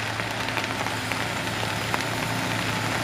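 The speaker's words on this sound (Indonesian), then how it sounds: "hujan pun sangat deras sekali ini ya" Heavy rain pours steadily on a surface near a hill road, a dense, even hiss with scattered sharper drops throughout.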